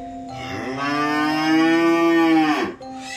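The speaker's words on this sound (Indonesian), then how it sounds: "Itu suara sapi pemirsa." A cow in the Tempurejo countryside of Blora, Indonesia, gives one long, loud, close moo in the evening. The tone is steady, then drops off sharply at the end.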